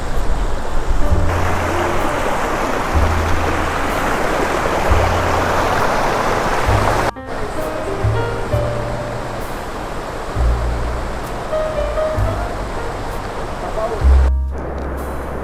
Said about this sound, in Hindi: ये झरना कह लो, नाला कह लो